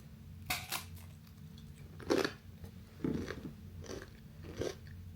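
Crunchy apple wafer with a dried apple piece in the center, bitten and chewed close up in several separate crisp crunches spread across a quiet room, with no talking.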